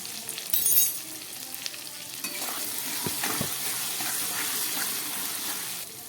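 Ground coriander, dry chilli and black pepper powders sizzle in a pan for a vegetarian chana dal dhoka, a steady close frying hiss with a few stirring scrapes and a small splash of added water, no talking.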